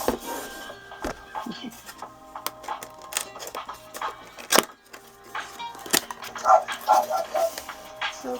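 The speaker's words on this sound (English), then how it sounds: "of course my dogs are gonna bark now" Household dogs barking in a home during an unboxing, in scattered bursts alongside rustling packaging and knocks, some barks sharp and near, others muffled, with a faint voice briefly in the background.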